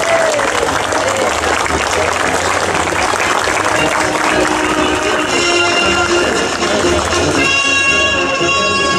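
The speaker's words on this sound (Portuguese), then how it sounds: "Vamos aplaudir." A crowd applauds along the route of a 7 September Independence Day parade in Rolândia, Brazil. The clapping and crowd noise are loud and continuous, and music or band tones rise in the later seconds.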